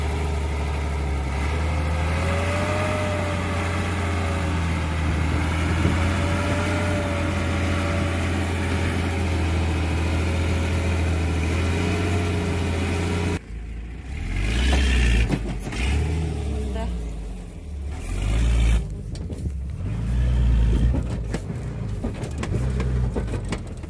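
KamAZ truck loaded with slabs, stuck at a construction site and being pulled out, idles with a steady low diesel rumble, then revs in rough, rising and falling surges under strain.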